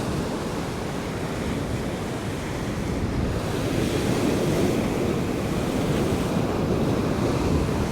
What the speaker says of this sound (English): Isn't this wonderful, just standing here watching these waves come crashing in here?